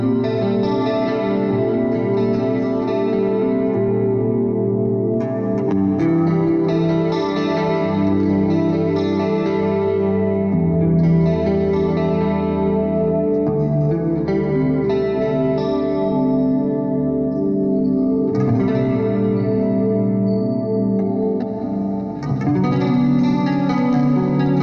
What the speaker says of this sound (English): Let's try real quick with some more washy reverb and some chorus.